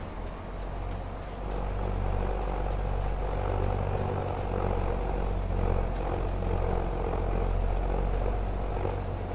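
A tractor in Farming Simulator 22 gives a continuous deep engine drone with a throbbing low hum, loud and steady throughout, no talk over it.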